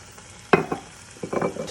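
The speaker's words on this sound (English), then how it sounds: "I'm going to add that, stir it in" A spoon stirs a sofrito-style pepper base in a hot pan, making brief close scraping strokes over a soft sizzle, two or three short bursts.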